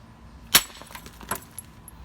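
A single sharp percussion strike on flint drives off a flake, a bright crack with a clinking ring, followed by a softer second tick and faint rattling, close and alone without speech.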